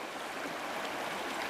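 River white water on a trout stream, a soft continuous rush and gurgle of flowing water heard close but faint, steady with no breaks and no talking.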